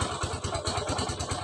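A Rusi 250cc motorcycle engine runs after repair, idling with a rapid, even putter and a faint mechanical clatter, fairly quiet and steady throughout.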